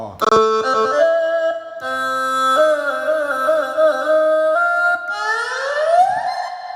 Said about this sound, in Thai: ซอไทยครับผมซอไทย